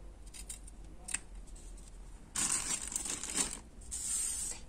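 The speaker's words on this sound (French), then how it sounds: "Donc là, je viens couper mon ruban." Scissors snip through craft ribbon for a paper pennant card, a couple of short cuts followed by longer crisp slicing and rustling, close up with no talk.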